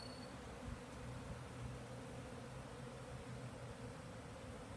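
Honeybees swarming around a beekeeping yard, a steady, dense hum of many insects buzzing close by, continuous with no voices.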